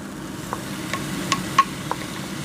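Pre-cooked ground beef stirred into browned peppers and onions in a pan, a soft steady sizzle under a handful of sharp spoon scrapes and clinks spaced irregularly, close and clear with no talking.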